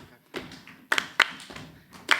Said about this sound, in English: It's stamping and clapping.